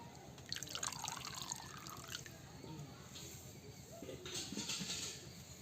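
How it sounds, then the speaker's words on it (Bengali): Shredded potatoes are rinsed by hand in a bowl of water, giving soft close sloshing and dripping sounds at low volume, with faint background noise throughout. "আর একবার ধুয়ে নেব"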